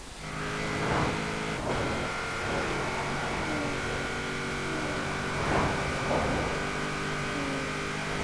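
A 1990 Mazda Savanna RX-7 in the racing game Forza Horizon 4 accelerates hard. A loud, steady engine drone holds at high revs, with a few pitch shifts as the gears change.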